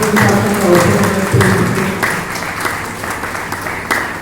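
Audience applause in a community hall at an opening meeting in Karimnagar, a dense clatter of many hands clapping together, loud at first and tapering toward the end.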